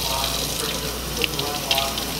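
Water runs from a tap during a rinse, a steady close splashing hiss that holds level throughout, with a few small clinks and no one speaking over it.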